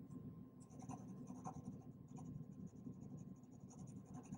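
A sharpened H pencil scratches steadily across paper while shading a drawing, a soft continuous rasp of short directional strokes, close and fairly quiet with no talking.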